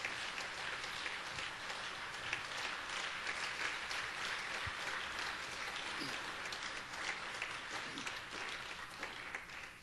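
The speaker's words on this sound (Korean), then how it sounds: "우리 박수로 맞이하겠습니다" A church congregation applauds to welcome a visiting missionary to the pulpit, a sustained, even roar of many hands clapping together, filling the hall at moderate volume from start to finish.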